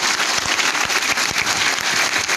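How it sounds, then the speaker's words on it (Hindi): An audience at a leadership program event applauding loudly, a dense wash of many hands clapping close by for a couple of seconds. "एक बार ताली तो बजा दो यार।"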